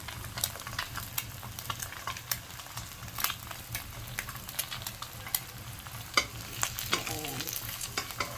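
Food fries without oil in a 32 cm non-stick wok, with a steady quiet sizzle under repeated scraping and tapping strokes of a spatula stirring it, close and uneven in rhythm.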